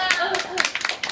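A small gathering at a disability-rights and anti-institution rally in Gwanghwamun gives a short burst of scattered clapping from a handful of people, close and uneven, with a voice talking over it.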